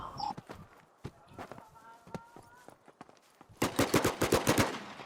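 Gunfire in the Last Man Standing video game, first scattered sharp shots amid footsteps, then a fast close burst of rapid automatic fire in the final seconds, with a voice briefly heard early.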